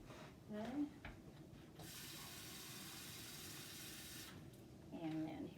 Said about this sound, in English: we're going to go ahead and put in 2 cups of water